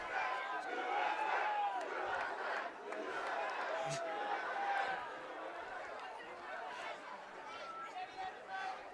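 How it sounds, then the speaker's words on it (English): The Raiders student section at a high school football game chants USA in a distant crowd roar, a rhythmic swell of many voices with a commentator talking over it. "We've got a USA chant coming from the Raiders student section"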